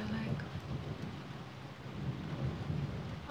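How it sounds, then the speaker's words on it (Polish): Distant thunder rumbles low and steady beneath constant rainfall in a calm, windless storm, a broad continuous wash of sound with no voices. "Burza jest daleko."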